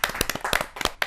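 Enthusiastic clapping from a poetry-gathering audience welcoming a poet to the stage, a quick run of sharp, close hand claps in uneven bursts.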